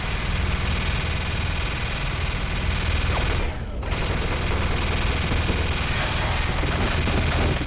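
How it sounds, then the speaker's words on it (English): Minigun from the game Left 4 Dead fires in a sustained, dense roar of rapid shots with a mechanical drone beneath, loud and continuous apart from a brief dip midway. "make the minigun a 360-degree minigun that can shoot anywhere and everywhere"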